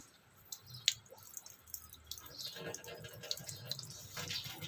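Water squeezed out of something just washed, with scattered drips and small splashes into a basin, quiet and close.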